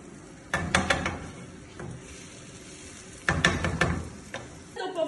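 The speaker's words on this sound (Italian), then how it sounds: "Mettiamo un po' di cipolla insieme a un po' di olio. Mescoliamo bene." Chopped onion sizzles softly in oil in a pan while a spoon stirs it, giving two clusters of scraping clinks over a steady low frying hiss, close by.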